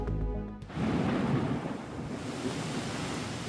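Heavy downpour in Gujarat with a deep roll of thunder at the start, then steady dense rain hissing loudly on surfaces nearby, no voices.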